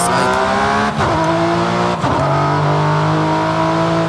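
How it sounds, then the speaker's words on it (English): A loud, droning Porsche engine in Forza Horizon 5, heard from inside the cockpit with loud intake sound, steady with harmonic whine, briefly dipping twice as gears shift, no voices. "The intake sound inside the cockpit is pretty loud, but I feel like the tone is completely off."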